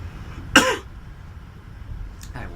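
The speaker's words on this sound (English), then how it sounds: "my cough is because unfortunately I'm a smoker." A smoker gives one short, harsh cough at close range, followed a moment later by a fainter throat-clearing sound in a quiet room.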